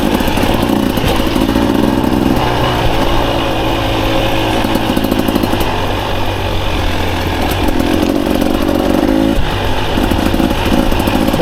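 A 2024 Beta 300RR Race Edition two-stroke dirt bike on single track, its loud buzzing engine revving up and down in repeated surges, close and continuous with no talk.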